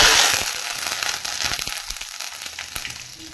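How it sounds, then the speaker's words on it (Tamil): Mustard seeds crackle and pop in hot oil for a pickle, a close, dense burst of sharp sputtering that starts loud and then settles into scattered pops. "கடுகு வெடித்து வச்சு"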